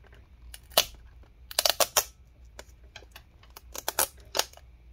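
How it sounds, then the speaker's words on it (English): Faint, sparse clicks and sharp snaps as the adhesive-backed touchpad on an ASUS X552E laptop is peeled away, irregular crackling bursts close up in a quiet room. "Okay, so the touchpad, trackpad one, we'll peel this off"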